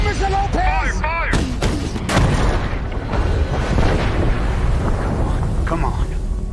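Warship deck gun firing in a WWII Atlantic naval film scene, heavy booms rolling into a loud, continuous rumble of battle noise, with shouted voices over the start.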